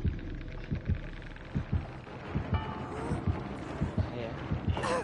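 A thudding heartbeat in a survival video game pulses in evenly spaced double beats, low and heavy, under faint game ambience with small sound effects layered on top.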